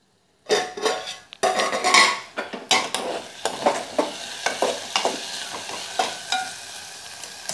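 Potato and carrot fry cooks in a pan over medium heat while a utensil stirs and scrapes, producing repeated clattering knocks over a light sizzle in an irregular rhythm, with no talking.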